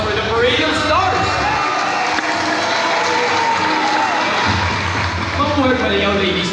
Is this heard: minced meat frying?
no